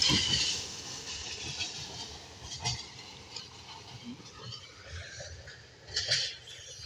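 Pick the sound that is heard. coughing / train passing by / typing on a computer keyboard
train passing by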